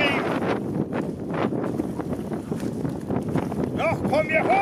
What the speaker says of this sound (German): da kommt noch mal eine Böe